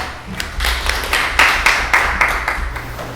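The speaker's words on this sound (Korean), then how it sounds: "힘찬 박수로 모시겠습니다." A crowd applauds with steady, fairly loud clapping for a few seconds, welcoming a speaker at a farmers' meeting.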